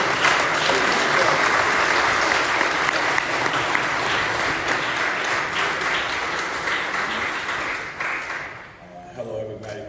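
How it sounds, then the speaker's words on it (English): Sustained audience applause at a live news conference, dense and loud for about eight seconds before fading out, with some cheering or voices mixed in. "give him a big round of applause"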